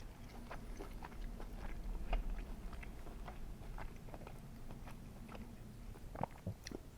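A bite of steak cooked on a Weber grill being chewed close up, soft wet munching with small crunchy clicks repeating steadily over several seconds, quiet and with no talk.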